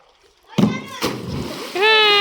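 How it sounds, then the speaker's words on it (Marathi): A boy jumps into well water holding his legs, landing with one heavy splash followed by a second splash and sloshing, while someone shouts briefly. "गठुडा उडी हाणत आहे."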